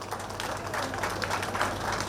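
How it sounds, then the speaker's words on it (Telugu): Audience at a pyramid meditation centre inauguration event applauds, a moderate, fairly steady spread of clapping from a gathered crowd, somewhat distant and softer, with slight swells in the middle. "ఆయన ఒకసారి గట్టి క్లాప్స్ కొడదాం."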